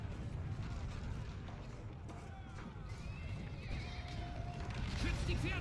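Horses whinny and neigh in the Battle for Middle-earth II video game, several distinct calls over a busy rumbling battle backdrop with hooves clip-clopping and mechanical clatter.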